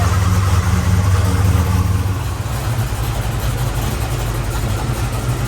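A vehicle engine idles steadily after sitting unstarted for three weeks, a loud, close, low rumble that stays even throughout with no voices over it.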